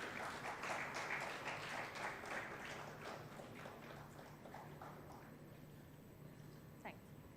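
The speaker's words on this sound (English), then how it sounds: "A big round of applause, everyone." Applause at an international hotel management conference and golden jubilee celebration, a crowd clapping in a quick pattering rhythm that is loudest at first, then thins and fades, heard faint and distant in a reverberant hall.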